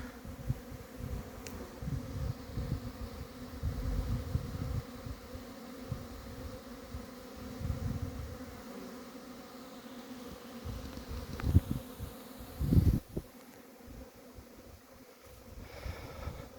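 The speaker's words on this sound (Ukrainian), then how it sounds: "всі бджоли облітуються" A continuous low buzzing drone of many honeybees flying around apiary hives outdoors in January in Odesa region, Ukraine, with some wind rumble and occasional bees passing close.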